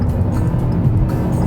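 A 2021 Kia Rio GT Line small turbo engine accelerating, droning steadily at close range, a low broadband roar with little change in pitch across the short stretch.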